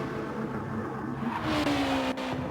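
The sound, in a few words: race car engine in a GT racing video game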